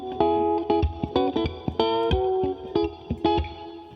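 Clean-tone electric guitar playing a blues groove, with short plucked chords and single notes in a syncopated rhythm, close and clear with a light effect sheen.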